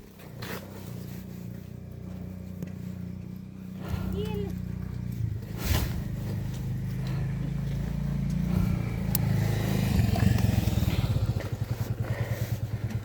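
A motorcycle engine labors and revs unevenly up close while slipping on a muddy mountain road, mud packed in the silencer, rising in strain before settling into a rapid idle putter, with people talking over it.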